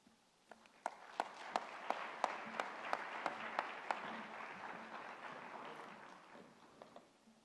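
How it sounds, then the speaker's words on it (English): Audience applause at an honorary fellowship award ceremony of the Commonwealth of Learning, moderate and somewhat distant, with a series of louder individual claps standing out over a steady wash of clapping that fades toward the end. "A round of applause for Dr."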